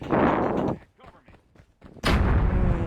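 Gunfire and fireworks in the Call of Duty Mobile video game, two loud, dense bursts of booming shots separated by a quieter stretch of softer sounds that may include voices.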